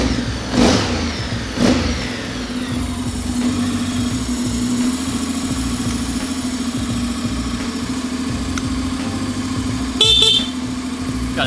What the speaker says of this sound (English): Got a healthy horn.